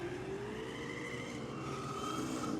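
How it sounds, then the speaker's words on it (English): A drag racing car at Sydney Dragway on a still evening, its engine droning at a distance with rising and falling pitch as the tyres spin for traction, fairly faint and steady. "the tyres fighting for traction in the in the aeroflow lane"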